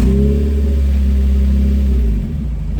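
Modified mid-engined Suzuki Swift drift and autocross car holding a loud, steady engine drone close by, its pitch sagging briefly near the end before picking back up.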